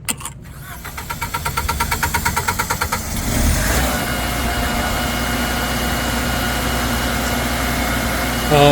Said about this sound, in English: Then the diesel engine, I'm guessing, is the red button.